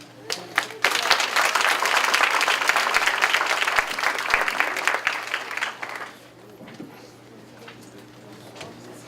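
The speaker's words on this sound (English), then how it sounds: "Please applaud." An audience applauds loudly at a Kwanzaa celebration held by a Jack and Jill of America chapter, dense clapping sustained for about six seconds before fading into quiet room noise.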